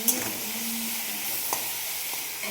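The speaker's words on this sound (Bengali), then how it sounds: "ফুলকপি ভাজা হচ্ছে, তাই তো মা?" Cauliflower frying in a pan at home, a soft steady sizzle and hiss with a few light clinks of a utensil, close and alone without talk.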